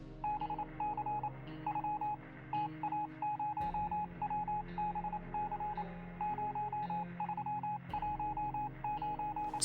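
Steady rhythmic Morse code beeps in short and long pulses over a humming radio-like drone, continuing throughout, in the video game Peaks of Yore.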